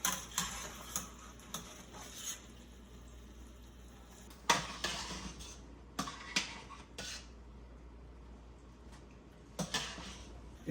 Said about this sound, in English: use our fork to stir this around and get all of the individual pieces of pasta